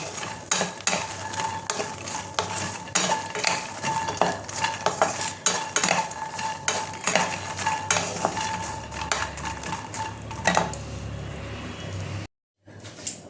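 Makhana (fox nuts) lightly frying in a little oil in a pan, with a steady sizzle and frequent scraping stirs of a spatula against the pan, continuing for several seconds before a brief cut of silence near the end.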